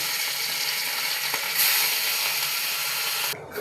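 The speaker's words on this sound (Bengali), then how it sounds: "তেল আমার গরম হয়ে গেছে, এবারে আমি মোড়লা মাছগুলোকে ভেজে নেব।" Gang morola fish fry in hot oil, a steady, close hiss and crackle of sizzling that carries on evenly and then briefly drops away near the end.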